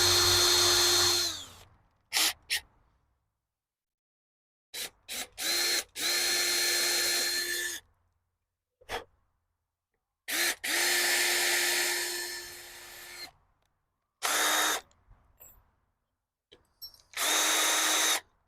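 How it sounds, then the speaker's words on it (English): A power drill with a small bit bores a pilot hole while a greenhouse door is being finished, running in about ten loud whining bursts of varying length separated by silent pauses, some only a fraction of a second and others several seconds long. "I'm going to try to do a pilot hole with this really small drill bit."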